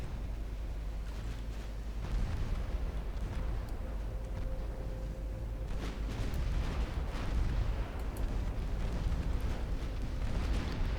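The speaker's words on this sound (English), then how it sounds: "Wales absolutely murdering the convoy with her 5-inch guns." In the naval game Ultimate Admiral Dreadnoughts, the battleship Wales fires her 5-inch guns at a convoy, a steady, muffled rumble of repeated distant gunfire and explosions over a constant low background roar.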